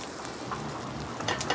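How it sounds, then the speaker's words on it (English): Steady hot oil sizzles and crackles in a pan while searing a turkey leg, a constant bright hiss with small pops, no voices. "what you want to have happen is that nice sizzling searing action."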